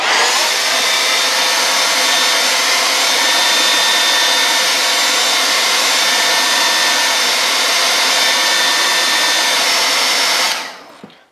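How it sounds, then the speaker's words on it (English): Handheld blow dryer runs loud and steady at close range for about ten seconds, warming wet splattered paint on a Harley Quinn statue, then switches off abruptly. "I'm going to heat it up with the blow dryer"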